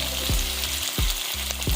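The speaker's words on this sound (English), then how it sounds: "I love listening to food sizzle." Chopped yellow onion, green onion and parsley fry in a pan with a constant loud sizzle, and several low thumps come at regular intervals as the vegetables are stirred.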